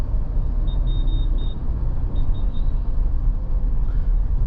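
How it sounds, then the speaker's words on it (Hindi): Road traffic in Delhi gives a dense, continuous low rumble of engines close by, with a few brief high beeps cutting through early on and no voices. "और अब देखो ये ट्रैफिक देख लो,"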